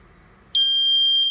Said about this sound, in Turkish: Duman dedektörünün test düğmesine basıyoruz.